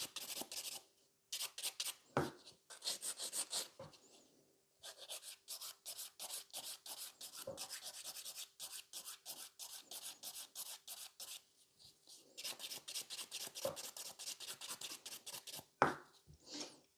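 Nail file rasping along the sides of fingernails during a crystal pixie nail-art session, a close, fast run of short rhythmic strokes in several bursts separated by brief pauses, with no talk.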